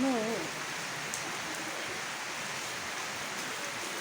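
Steady rain falls at night onto a paved courtyard, a constant fine hiss at moderate level. A voice is heard briefly at the very start.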